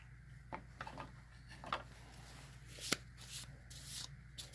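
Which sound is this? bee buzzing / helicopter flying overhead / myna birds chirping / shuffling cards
shuffling cards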